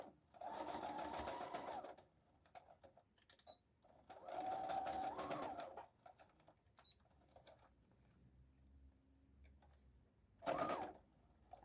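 A sewing machine stitches fabric for a homemade Easter basket, including a backstitch, running in two loud, steady whirring bursts and then a short final spurt, with quiet handling in between.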